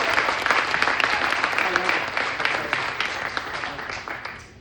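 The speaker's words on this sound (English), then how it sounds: "Give a round of applause for yourselves." An audience at a scholars' gala gives a full round of sustained clapping, with whoops and voices mixed in, loud at first and gradually tapering off toward the end.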